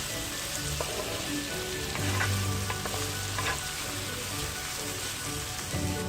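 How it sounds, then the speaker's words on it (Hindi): Vegetables sautéing in a hot pan for Singaporean rice, a loud, steady, dense sizzle with occasional scraping stirs, close and continuous with no talk. "हमें वेजिटेबल्स को थोड़ा थोड़ा सा सौते करना है।"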